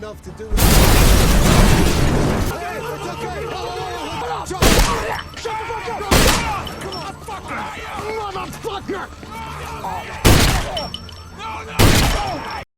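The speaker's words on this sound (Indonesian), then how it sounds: "Dan terjadilah ledakan." Several booming blasts from a bomb under a company car burst out over a dramatic soundtrack in the film Empire State, one long roar at the start and sharp bangs spaced through the rest.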